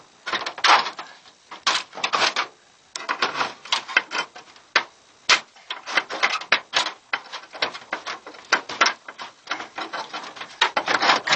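Cutters chew through old metal dormer vents on a roof, a close series of irregular crunching snips and scrapes with short pauses between cuts, no talking.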